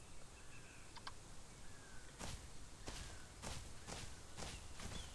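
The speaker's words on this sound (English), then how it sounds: "I hear big footsteps" Heavy footsteps of a large dinosaur in the survival game The Isle, a slow series of about six broadband thuds spaced roughly half a second to a second apart, moderately distant over a steady low ambient hum, with no talking.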